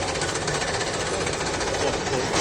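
A Churchill Mark III tank moves past at Tankfest, its tracks giving a rapid, continuous clattering rattle with a gritty broadband texture, steady and moderately loud throughout.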